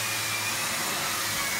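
A Miele C3 Complete vacuum cleaner with a turbo brush runs steadily, a loud broadband whoosh with a low motor hum that holds unchanged and alone throughout.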